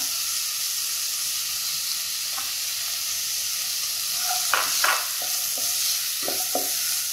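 Chopped onions hit hot oil in a pan for egg Manchurian, giving a steady hiss of frying with a few scraping stirs of a spoon against the pan toward the end.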